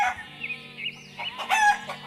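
Chickens cluck in short bursts while a rooster crows nearby, the calls loud and overlapping over a quiet farmyard.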